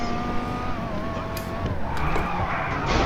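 A car drifts and skids in the video game GTA 5, engine droning under a long wavering tyre squeal that rises and shifts, with a brighter skid and rush near the end, loud and continuous.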